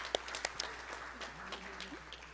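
Faint applause from a conference audience, a few sharp claps standing out amid soft scattered clapping.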